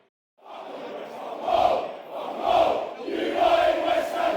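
Millwall football crowd chanting a song together in a stadium during the match against Watford, a massed rhythmic roar swelling in repeated surges, moderately distant and alone without commentary.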